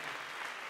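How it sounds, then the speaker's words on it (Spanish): A church congregation claps steadily, a dense, even wash of applause that sounds a little distant and soft. "Fuerte el aplauso al Señor"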